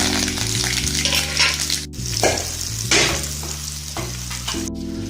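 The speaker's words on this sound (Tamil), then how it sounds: "கடுகு சீரகம் பொரிஞ்சதும் கேஸ் ஆஃப் பண்ணிட்டு இந்த கருவேப்பிலையும் காஞ்ச மிளகாவும் ஆட் பண்ணலாம்" Curry leaves and dried red chillies sizzle and crackle loudly in hot tempering oil after mustard and cumin seeds have popped. A steady frying hiss runs throughout, broken by a few sharp spits and pops, with no talking.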